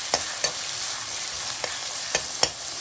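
Large onions sautéing in a pan for mutton Chettinad gravy, a constant hiss of frying broken by five sharp spatula scrapes against the metal, close up and without any voices.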